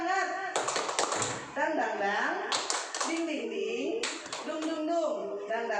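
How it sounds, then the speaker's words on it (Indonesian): A group of teachers and mothers at a school training session performs a rhythmic clapping chant, sharp hand taps in quick bursts mixed with loud sung and chanted voices close by. "Yuk, tepuk semangat"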